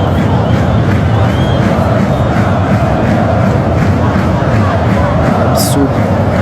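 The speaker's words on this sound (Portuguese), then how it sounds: "Uma torcida cantando uma contra a outra ali." Rival football supporters chant against each other in a packed stadium during a Corinthians and Atlético Mineiro match, a loud, continuous roar of massed voices filling the whole stretch.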